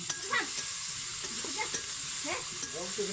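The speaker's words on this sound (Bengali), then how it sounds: "পেঁয়াজটা ভেজে তুলে নি" Onions frying in a pan at an outdoor picnic cook-out, a constant hissing sizzle with a few short stirring scrapes, birds chirping in the background.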